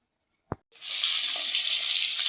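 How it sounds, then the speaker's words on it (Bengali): Taki fish hitting hot oil in a pan: a brief tap, then a sudden loud, steady hiss of frying that holds evenly up close, with no voices. "এই যে আমি মাছটা ভাজি করে নিচ্ছি।"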